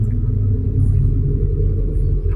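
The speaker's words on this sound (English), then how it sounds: "There's a car passing very slowly" A car passes very slowly nearby as a low, steady rumble that holds at the same level throughout, with no clear approach or fade.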